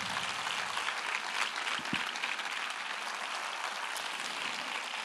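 A large crowd applauds continuously at the 2022 Mijas fair proclamation, a steady, full wash of clapping that holds evenly throughout.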